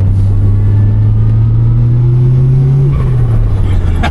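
A supercharged Nissan SR20 engine drones loud and close from inside the car, holding a steady note before the pitch drops sharply as the revs fall.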